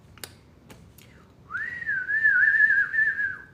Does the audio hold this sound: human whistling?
yes